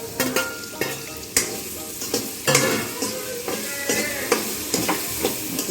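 Tomatoes frying in a pan while a spoon stirs them, with a close, steady sizzle broken by repeated sharp clinks of the spoon against the pan.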